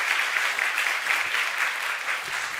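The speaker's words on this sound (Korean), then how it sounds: "특별히 수고해 주신 분들께 좀 감사의 박수 한번 해드리면 좋겠다" A church congregation at a New Year's Eve service claps in thanks, a dense, sustained round of applause from many hands that holds steady throughout.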